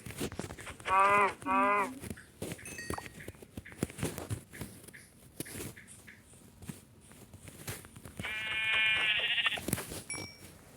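Sheep in a video game bleat twice, a pair of loud nasal calls near the start and a longer one near the end, with soft footsteps and game noises between them.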